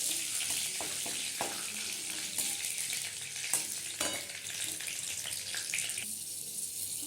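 Green chillies hit hot oil already holding mustard seeds and curry leaves, giving a bright continuous sizzle with scattered pops and stirring scrapes, close and steady, without voices.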